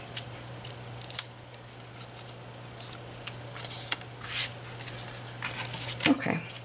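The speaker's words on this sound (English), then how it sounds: "I'm just going to cut into the middle and then cut up to those cut marks." Scissors snip through cardstock for a punch-board gift box, giving several short, sharp crisp cuts spaced irregularly at close range over a quiet room hum.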